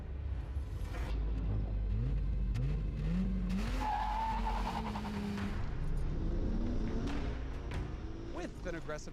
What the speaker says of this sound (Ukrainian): При агресивному старті М5 зривається з місця з ідеальною кількістю пробуксовки